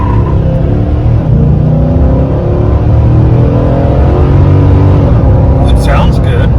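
A 2019 Nissan Titan pickup accelerating onto a freeway, heard from inside as a loud, steady low engine drone and road rumble that holds throughout, with a faint voice near the end.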